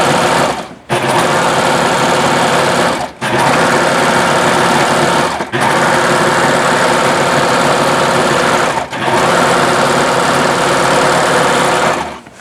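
A serger sewing machine runs in long, loud, steady bursts while stitching tote bag fabric, stopping briefly three times between runs, with no talking.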